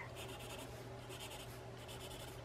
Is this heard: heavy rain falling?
no